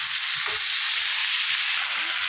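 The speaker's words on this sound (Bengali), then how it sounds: "জিরে আদা বেটে মশলাটাকে কষিয়ে" A ginger-cumin spice paste sautés in oil with a loud, steady, close hiss of frying, with only faint low knocks from the pan underneath.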